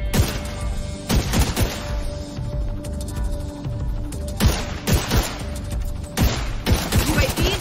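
Heavy gunfire in The Division 2 on Xbox One, dense overlapping shots and sharp bursts running almost continuously, loud and close with occasional booming impacts.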